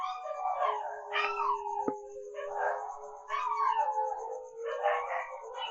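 Dogs howl in long sustained wavering tones mixed with short yips, loud and near, with a sharp knock partway through and no clear talking.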